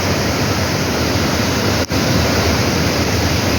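Floodwater from the rainy season rushing past in a dense, loud, unbroken roar, steady throughout apart from one brief dip.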